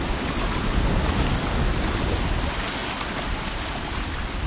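Steady broadband wash of ocean surf on a sandy beach, continuous and fairly loud with gentle swells in intensity, no voices over it.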